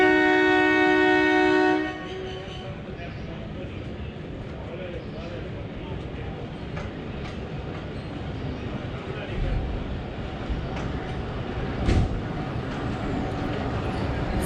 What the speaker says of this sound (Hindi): जेंटल येट पावरफुल हॉर्न और उसके साथ ही गोलड़ा शरीफ से डिपार्चर शुरू हो गया